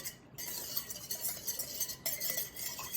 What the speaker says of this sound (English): So to stir them, I have a tool called a whisk.